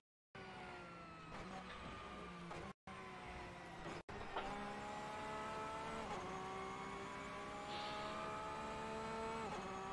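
A Porsche RSR race car engine in Assetto Corsa, a steady loud tonal drone with rising and falling pitch as the car accelerates and shifts, running almost continuously with two brief cuts early on.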